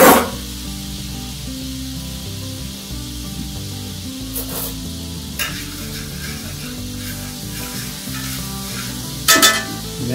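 A pan sauce bubbles and sizzles in the skillet left from sous vide pork chops, a steady frying hiss with a few sharp clinks and scrapes of a utensil, close and with no talking.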